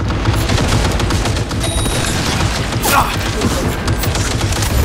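Sustained automatic gunfire in Cyberpunk 2077 Phantom Liberty, a dense rapid rattle running the whole stretch with a heavier impact near the middle, loud and close, with a brief exclamation from a voice.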